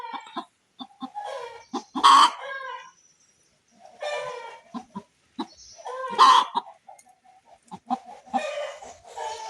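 Chickens call close by in loud, strained bursts that repeat twice, mixed with sharp clucks and cackles in the gaps between them.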